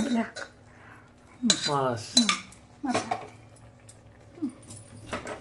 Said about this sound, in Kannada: ಈಗ ಅನ್ನ ಹಾಕೋದು ಈಗ ಅನ್ನ ಇದನ್ನ ಹಾಕೋದು ಹಿಂಗ ಅನ್ನ ಹಾಕೋದು